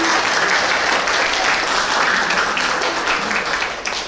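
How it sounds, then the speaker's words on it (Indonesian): Audience applause for a ladies' fellowship quiz team taking the stage at a church Bible quiz on the books of Samuel, a dense, steady wash of many hands clapping that holds for about four seconds before thinning slightly at the end. "Kita sambut dengan tepuk tangan yang meriah"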